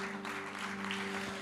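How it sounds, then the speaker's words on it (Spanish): A church congregation applauding in praise to the Lord: a brief, steady burst of clapping over a constant humming tone. "dale un aplauso de alabanza al Señor."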